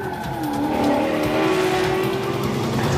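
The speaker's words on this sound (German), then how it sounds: "Ich höre gerade die krassesten Sportwagen hier rumfahren." A sports car engine in Uncharted 4 roars loudly, with tires squealing as it speeds and turns, continuous and close.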